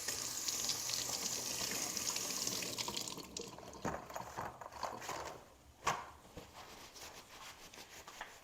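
Tap water runs in a steady, close hiss over an avocado being washed, then cuts off, leaving softer rubbing and handling sounds with a brief splash. There is no talking.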